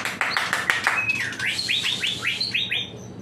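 A white-rumped shama (murai batu) sings at a bird kiosk, a close, loud, rapid run of varied whistles and chirps ending in repeated upward-sweeping notes, with no talk.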